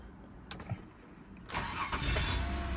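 A 2002 Mazda Tribute with a 3-litre engine that has a stalling, surging idle in reverse cranks and catches, then settles into a steady, close, fairly loud idle with no talking.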